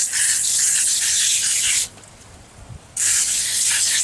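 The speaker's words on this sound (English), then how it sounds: "This one I am going to spray on this Magnum crankshaft." Foam cleaner sprayed onto a Magnum crankshaft from close range, two sustained hissing bursts separated by a short pause, loud.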